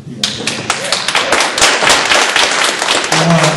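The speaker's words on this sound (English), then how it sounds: "would you please give an applause to the" Town hall meeting audience bursting into applause, dense close clapping that starts abruptly and builds into a loud sustained round, with a few sharp individual claps and a voice speaking near the end.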